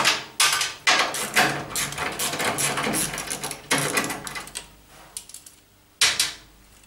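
A quarter-drive socket wrench with a turner works the bolts on a Beko vented tumble dryer, giving sharp metallic clicks and ratchet bursts, irregular and close, with short pauses between runs.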